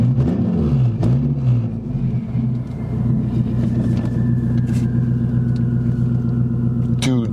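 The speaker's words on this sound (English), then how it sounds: "Dude, that turbo sounds ridiculous." A turbocharged 8th-generation Honda Civic drives under steady engine drone and rumble from inside the car, with pitch sweeps as it revs and shifts, and a sharp hiss near the end.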